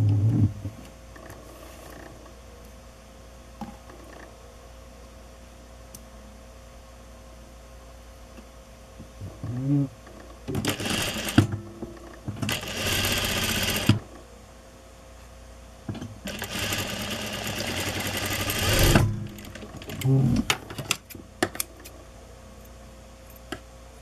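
A sewing machine stitches the neckline of a blouse in bursts of rapid mechanical whirring, with quiet handling noises and pauses between runs.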